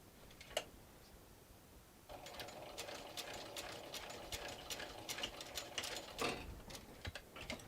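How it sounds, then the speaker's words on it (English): A sewing machine top-stitching fabric at close range, a quiet pause followed by a steady fast rhythmic whir and ticking of the needle running for several seconds, with a few small clicks. "I'm going to try to make sure that my needle is going down in the center so that I can only do 2 stitches across there"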